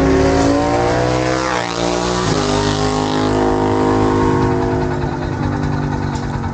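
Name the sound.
motorcycles drag racing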